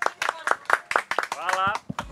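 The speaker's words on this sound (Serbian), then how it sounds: "Jedan veliki aplauz za Čika Stanka, drugari." A group claps for Uncle Stanko, the keeper of a bee sanctuary, in brisk uneven bursts. Excited voices call out over the clapping.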